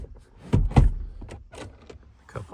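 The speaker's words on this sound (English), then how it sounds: "Let me open the hood too." Hood of a 2000 Land Rover Discovery Td5 being opened: two loud close clunks in quick succession, followed by lighter rattles and taps of metal.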